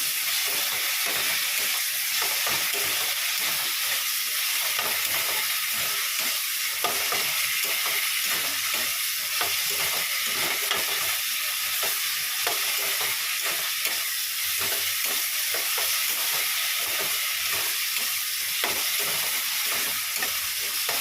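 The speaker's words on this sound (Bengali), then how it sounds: "দেখো মশলাটা খুব ভালো করে কষাচ্ছি" Masala spices frying in a little oil with onion, ginger and garlic, a dense constant hiss and sizzle with rapid rhythmic stirring scrapes underneath, close and loud from start to finish.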